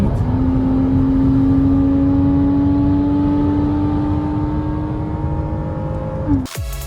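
A Porsche Boxster's 2.7-litre flat-six drones steadily from inside the moving car, a smooth sustained engine hum holding its pitch with a gently rising tone, ending in a brief clunk.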